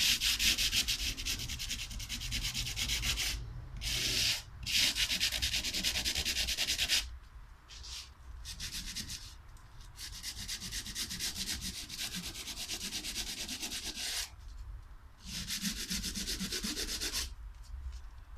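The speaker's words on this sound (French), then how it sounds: "je mets du papier de verre dessus avec 2 agrafes et ça me fait une très bonne cale à poncer qui est bien droite" Sandpaper stapled to a flat wooden block rubbed along the edges of an aerated concrete ant nest, steady close rasping strokes in long bursts separated by short pauses.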